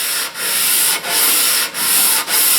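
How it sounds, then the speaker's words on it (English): Steady abrasive rubbing of 150-grit sandpaper stretched over a wooden jewelry box, loud and close, with four brief pauses where the stroke turns, no voices. "I got the 150 paper in there, and I'm pushing down on the outside and stretching it across."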